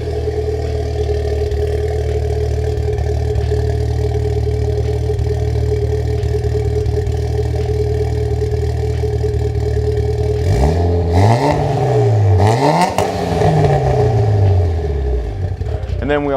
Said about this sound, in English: So that's the exhaust we're running now.